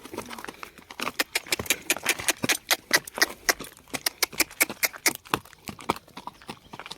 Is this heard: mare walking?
yes